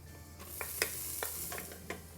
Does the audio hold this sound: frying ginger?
yes